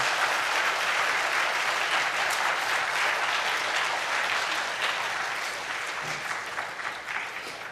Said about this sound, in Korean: 우리 박수를 한번 격려하겠습니다.